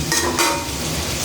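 Flat beans and potatoes, fried beforehand, are stirred in a pan, giving a steady close sizzle with soft scraping and faint clinks of a utensil against metal, continuous and without talk.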